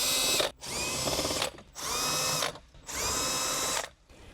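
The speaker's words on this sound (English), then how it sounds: "Let's remove it either using a power tool, or you can use a ratchet and a 10mm socket." A power drill whirs in three long bursts of about a second each, removing 10mm bolts on a Subaru WRX, separated by short pauses, loud and close with a rising whine at each start.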